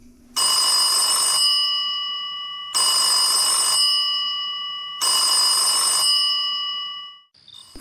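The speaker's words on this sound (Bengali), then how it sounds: "ঘুমোতে যাব বলে ঠিক করলাম, এমন সময় ফোনটা বেজে উঠল।" A telephone bell rings three times in evenly spaced bursts, each a bright metallic trill lasting about a second, loud and clear with short silences between, as a sound effect in an audio story.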